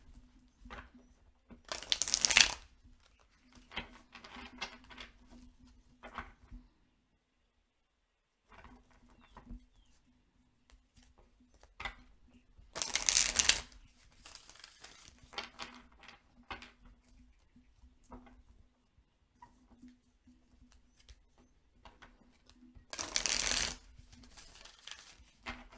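Tarot cards being shuffled in three separate bursts, each a short crisp riffling rush spaced several seconds apart, with quiet handling rustles and a low steady hum between.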